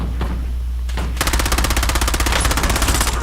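Rapid sniper and automatic gunfire in a first-person shooter video game, a fast rhythmic burst of loud cracks that starts after a brief quieter stretch and keeps going to the end.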